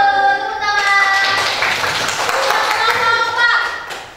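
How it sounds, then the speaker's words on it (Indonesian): A classroom group claps hands in applause for a student team, a dense, steady patter filling the whole stretch with children's voices mixed in, fading toward the end. "Tepuk tangan."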